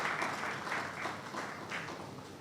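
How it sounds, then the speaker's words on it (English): Faint, distant applause from a legal conference audience during a law week event, a soft patter of scattered clapping that fades slightly over two seconds. "A round of applause for that"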